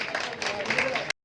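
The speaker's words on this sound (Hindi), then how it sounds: "जोरदार तालियां बच्चों" An audience at an Aakash Educational results celebration in Hisar honouring JEE Main 2024 achievers gives a brief burst of clapping, about a second long, before it cuts off.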